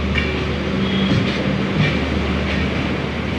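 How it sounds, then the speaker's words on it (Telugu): Inside a moving passenger train on an Indian railway route, steady loud rumble of the carriage with faint repeating clickety-clack of wheels over rail joints, no one talking. "ఇప్పుడే ట్రైన్ అయితే కదిలింది."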